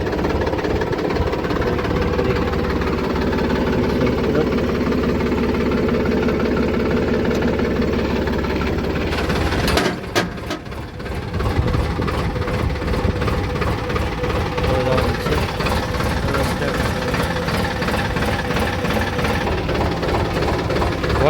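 A tractor engine runs loud and close in a steady, rumbling drone with a faint knocking pulse, briefly dipping about halfway through before carrying on evenly.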